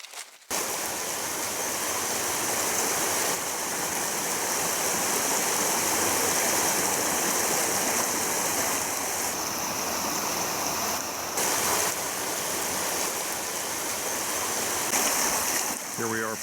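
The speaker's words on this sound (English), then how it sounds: "Here we are, Pine Creek." Pine Creek running high after spring rain: a loud, steady rush of stream water that continues unbroken at close range throughout.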